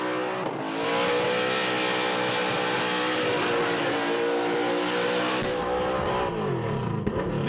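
Burnout car at the Red CentreNATS competition in Australia, tyres nearly worn through, engine held at a loud sustained rev with spinning tyres roaring continuously throughout, pitch dropping near the end.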